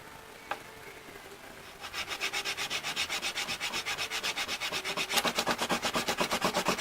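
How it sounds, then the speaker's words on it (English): A surface is hand sanded flat with rhythmic back-and-forth strokes. The rasping grows steadily louder and quicker after a quiet start with a single tap, and no one speaks over it. "I know where to focus my sanding while I'm sanding it, so that I can try to really get as flat of a surface as possible"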